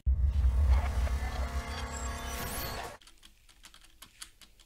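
Keys pressed on ROG gaming keyboards, with a dense rush of clicking that stops abruptly, then a few scattered, lighter taps at close range.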